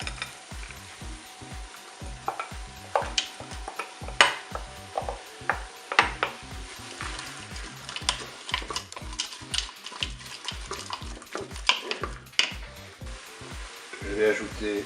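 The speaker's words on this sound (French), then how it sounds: "maintenant je vais ajouter des morceaux d'aubergine" Eggplant pieces are added to a Cookeo pot for a light ratatouille and fry with a continuous close sizzle, broken by regular clattering knocks and scrapes as the pieces are stirred.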